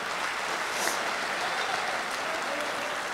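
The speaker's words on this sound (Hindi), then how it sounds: "एक बार जोरदार तालियां डॉक्टर राहत इंदौरी के लिए" Applause from a mushaira audience in Bahrain for Dr. Rahat Indori: dense, steady clapping from a large crowd that fills the whole stretch at an even, full level.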